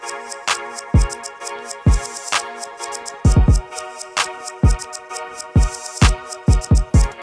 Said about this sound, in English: All right, so we got the drums done and they sound like this.